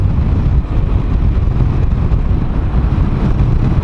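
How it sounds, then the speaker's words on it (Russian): Strong, very cold wind buffeting a microphone on a motorcycle ride across Belarus, a loud continuous low roar with no break. "Все было бы зашибись, если бы не такой сильный и очень холодный ветер."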